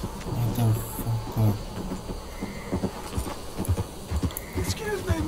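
Horse hooves clip-clopping in Red Dead Redemption 2, a steady rhythmic trot near the listener over a busy game soundscape, with someone speaking over it.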